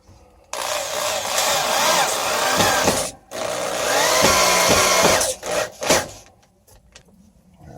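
A power drill drives screws through an ironing board into wood while a junk greenhouse is being repaired. Two long, loud, close whirring runs are followed by a few short bursts before it goes quiet.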